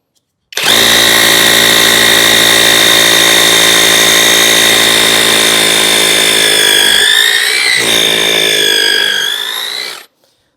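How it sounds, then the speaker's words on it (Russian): Loud, continuous high-pitched whine of a Heimerdinger LB169 cordless rotary hammer drilling in hammer mode, running steadily for about nine seconds, then winding down and stopping. "Режим сверления с долблением"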